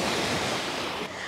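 Sea waves wash over an Odessa beach in a steady broadband roar, with close wind noise on the microphone.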